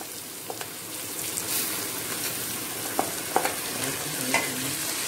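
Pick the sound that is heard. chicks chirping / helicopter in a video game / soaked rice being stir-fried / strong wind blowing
soaked rice being stir-fried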